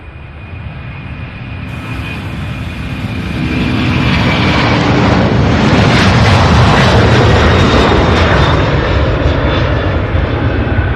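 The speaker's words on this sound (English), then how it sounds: "This is the aircraft making all that racket." A fixed-wing airplane passes at Louisville International Airport (UPS Worldport), its engine roar building from a steady drone to a loud, broad rushing swell that stays strong to the end, with no voices.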